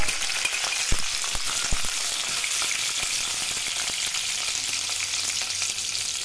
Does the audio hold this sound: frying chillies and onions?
yes